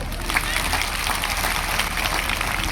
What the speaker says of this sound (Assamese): মই সকলোৰে পৰা, দূৰত থকা সকলোৰে পৰাও মই এটা জোৰকৈ হাত তালি বিচাৰিম